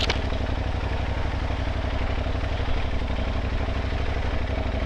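An adventure motorcycle, a 2024 Yamaha Tuareg 660 or 2023 KTM 890 ADV R, idles off-road on a backcountry trail, with a loud, close, steady mid-pitched thrum and clatter throughout.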